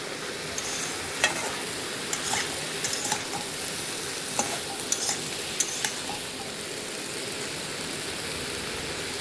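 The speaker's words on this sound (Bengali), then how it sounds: "কষানো মশলাটাতে দিয়ে দিলাম ফুলকপি আলু" Cauliflower florets and potato chunks stirred through fried masala in a pan, giving a steady broad sizzle with scattered clicks of a spoon against the pan.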